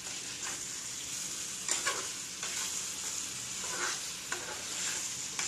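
Potatoes are stirred with a poppy seed paste in a pan, a soft steady sizzle with a few gentle spatula scrapes at intervals, fairly quiet and close, with no talking.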